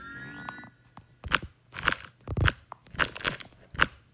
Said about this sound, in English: That kind of sounds like you're squishing the can